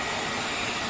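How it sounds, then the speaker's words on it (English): A hair dryer blows air in a steady, loud, even whoosh that runs unbroken from start to finish with no voices. "Take the hair dryer if you want."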